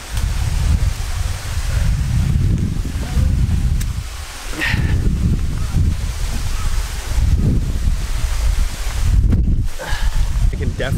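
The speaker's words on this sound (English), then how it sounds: "I can definitely hear the waterfall." Tadake Falls waterfall in Okinawa sends up a continuous broad rushing roar heard from nearby along a trail. It surges and dips slightly over time, with brief voices over it.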